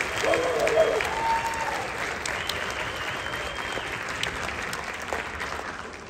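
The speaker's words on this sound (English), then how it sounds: "About another round of applause for our soloist, Taylor Watson." An audience at a high school music department concert applauds a soloist with steady, sustained clapping that fades slightly toward the end, with a faint voice briefly underneath.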